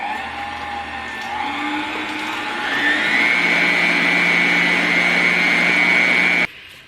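An electric mixer beats pound cake batter on high speed, a loud steady whir that rises in pitch partway through, holds, then cuts off abruptly near the end.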